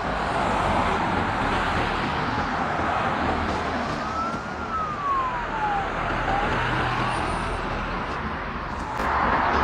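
A police car siren wails with a rising and falling tone, heard at a moderate distance over a loud, continuous rumble of road and traffic noise that persists for the whole stretch.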